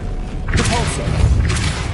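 A Depulso spell is cast in Hogwarts Legacy, giving a short whooshing burst with a soft thud, followed by a second push a moment later, while a voice speaks over it.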